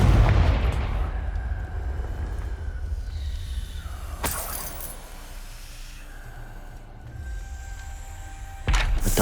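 Confringo blasting spells in Hogwarts Legacy on PS5 give sharp explosive bursts: a loud impact at the start, a bright crack in the middle and another blast at the end, with rumbling game ambience between them.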